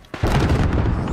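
A heavy bomb blast in a first-person shooter erupts after a brief pause, a loud, booming roar that stays full and rumbling through the rest of the moment.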